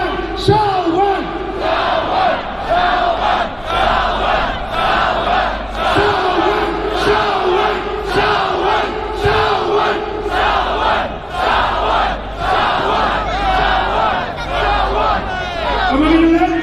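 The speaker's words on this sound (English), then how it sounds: "So I want everybody in the crowd to start chanting Salman, Salman, Salman." A large protest crowd chants a name together in rhythmic repeated bursts, loud and reverberant, with shouting voices and background chatter mixed in throughout.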